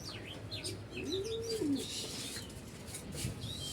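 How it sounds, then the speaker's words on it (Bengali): Sirazi pigeons on a rooftop give a soft, low coo against steady background hiss, with faint chirps from other birds around it and no talking. "সিরাজি কবুতর"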